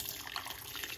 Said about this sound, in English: Pour a little bit of hot water.